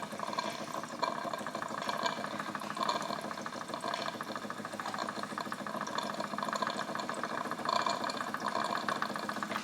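A Wilesco D20 toy steam engine runs with its boiler under pressure. A steady, dense chuffing and hissing churn continues throughout, close and fairly loud, with no voices.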